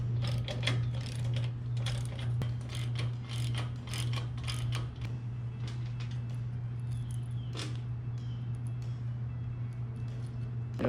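A ratchet removes bolts from a Harbor Freight wheel chock, a fast clicking pawl rattling in repeated bursts over a steady low hum, close and fairly quiet.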